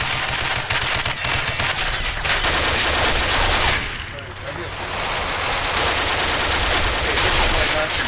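An MG42 machine gun firing 8mm rounds in a dense, continuous roar of bursts that dips briefly midway before resuming, loud and close, with no talk over it.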